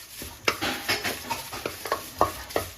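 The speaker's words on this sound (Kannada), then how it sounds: "ಹಾಗೆಯೇ ಕರಿಬೇವು, 1 ಬಟ್ಲು ಕರಿಬೇವನ್ನು ಹುರ್ಕೋಬೇಕು." Cumin seeds and curry leaves dry roasting in a pan over medium flame for moringa leaf chutney powder, with repeated scraping stirs and light crackles at an uneven rhythm, close and fairly quiet.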